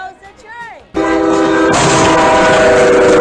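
A train passes with its horn blaring loud and sustained for over two seconds over heavy rumbling rail noise, after a short burst of voice-like sound at the start.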